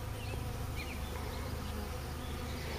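Bees cluster and fly around a wooden box, giving a dense, steady buzz heard up close and alone, with no voices.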